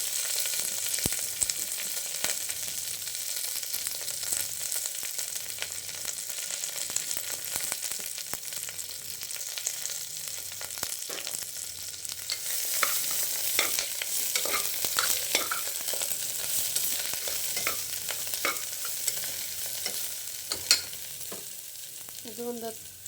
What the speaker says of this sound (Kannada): ಫಸ್ಟ್ ಹಾಗಲಕಾಯಿ ಚೆನ್ನಾಗಿ ಫ್ರೈ ಆಗಬೇಕು ಎಣ್ಣೆಯಲ್ಲಿ